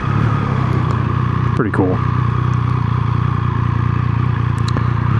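A Triumph Speed Triple 1200 RX motorcycle hums steadily in first gear at low revs, close and continuous, while the rider speaks briefly over the engine.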